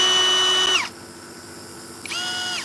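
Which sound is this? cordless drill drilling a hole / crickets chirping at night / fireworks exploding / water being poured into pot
cordless drill drilling a hole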